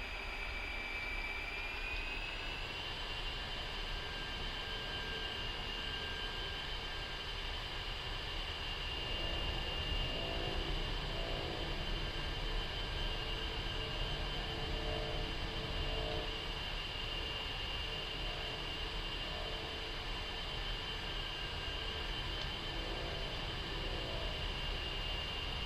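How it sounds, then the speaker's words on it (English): An A-10C jet taxiing down a runway in the DCS flight simulator, a steady engine whine and broadband rumble holding level throughout, with a faint rhythmic thumping pattern joining midway, and no talking. "I'm just taxiing down the runway."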